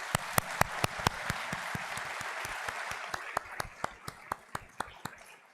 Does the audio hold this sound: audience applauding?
yes